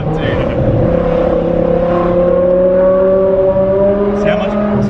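BMW E63 M6 with its V10 engine revving loudly from inside the cabin, a steady high-pitched engine tone with rising harmonics held throughout, while voices chatter faintly over it.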